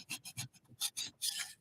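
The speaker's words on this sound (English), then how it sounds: "So I am going to scrape." A cheap Dollar Tree scraper scrapes an Easter bunny craft piece in short, repeated rasping strokes, about seven close, quiet passes in an uneven rhythm.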